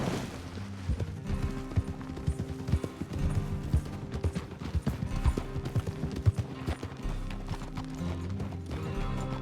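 Horse hooves clip-clop in a steady rhythm throughout in the video game Red Dead Redemption II, layered with game music and ambient noise; a horse briefly whinnies.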